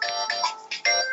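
A telephone rings during a broadcast, giving a bright electronic ringtone in repeated bursts with short gaps, clear and fairly close, with no voices over it.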